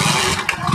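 A motor vehicle engine runs close by, a steady mid-pitched drone with slight fluctuations throughout the short moment.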